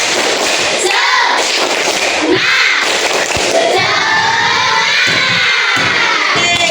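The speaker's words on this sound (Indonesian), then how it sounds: "Tepuk semangat" A class of schoolchildren does a rhythmic group spirit clap, with loud excited shouting and chanting voices over scattered thumping claps in a classroom.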